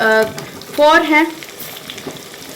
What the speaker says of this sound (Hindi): ऑयल गर्म हो चुका है। मैं यहाँ पर डालूंगी मिक्स गरम मसाला थोड़ा सा, 1 टेबल स्पून है। सौटे करेंगे थोड़ा सा।